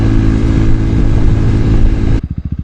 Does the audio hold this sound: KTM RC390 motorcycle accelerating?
yes